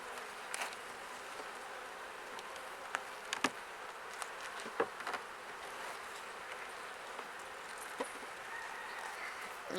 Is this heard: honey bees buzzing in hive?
yes